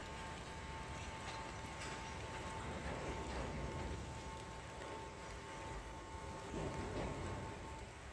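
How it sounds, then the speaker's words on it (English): A Canadian-built diesel locomotive hauling seven oil tank wagons rolls past a railway gate near Kelaniya Railway Station in Sri Lanka, giving a faint, continuous rumble and rattle of wheels that swells slightly toward the end. "This train includes 7 oil tank wagons."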